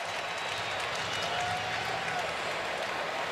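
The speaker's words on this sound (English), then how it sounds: "Now you hear more of the crowd reacting." Football stadium crowd at the 2013 SEC Championship game between Auburn and Missouri, a broad roar with scattered applause that swells steadily, with a commentator talking over it.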